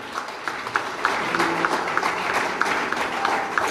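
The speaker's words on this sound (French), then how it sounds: "Koutiala, sous vos applaudissements." Scattered, fairly faint audience applause at an award ceremony as a prison in Koutiala receives first prize, with individual claps audible in an irregular patter.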